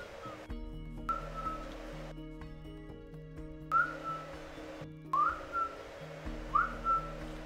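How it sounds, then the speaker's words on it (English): Several short whistled notes rise and fall over looping music in the game ARK, spaced a second or two apart, with occasional quiet ambient sounds. "Just start whistling."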